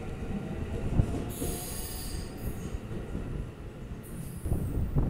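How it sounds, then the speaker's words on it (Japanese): A Hapi-Line Fukui train pulls away from Takefu Station toward Fukui with a heavy low rumble, while high metallic wheel squeals come and go in bursts. "ということで列車福井方面に出ていきました"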